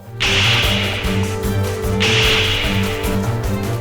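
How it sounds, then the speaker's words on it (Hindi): A hard slap in a Hindi TV drama, sharpened into a whip-like crack with a swishing tail. It hits twice, each loud and close, over a steady dramatic music bed. "जोरदार थप्पड़ मार दिया"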